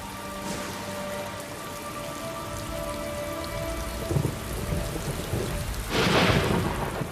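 Torrential rain pours steadily in a sandy canyon, with rumbles of thunder building near the end, a loud crack-like roll around the sixth second.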